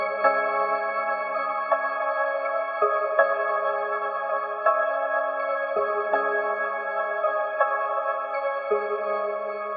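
A synth melody built in FL Studio for a hard beat, with low end added and softened velocities, plays clean bright sustained tones in a repeating phrase with a lower note shifting beneath, and no voices.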